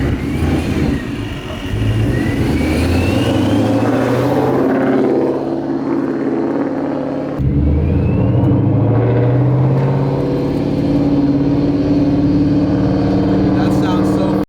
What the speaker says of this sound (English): So you can hear it like whistling